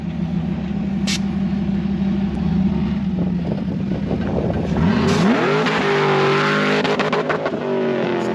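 A car on a 250 nitrous shot idles with a deep rumble, then launches hard, its engine note sweeping upward loudly as it accelerates away.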